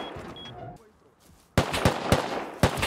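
A player outside a base in a survival shooter fires several loud gunshots in a slow, irregular series, each a sharp crack, following a quieter stretch with faint mechanical tones.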